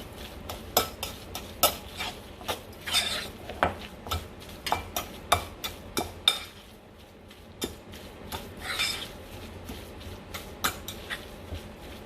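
Salmon paste mixed for patties with a utensil in a bowl, producing steady rhythmic taps and scraping clinks at close range, with a short pause midway before the stirring resumes.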